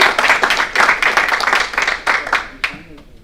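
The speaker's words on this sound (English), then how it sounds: "Round of applause for you." Meeting attendees clap in a short burst of applause, uneven individual claps fading toward the end, with voices mixed in.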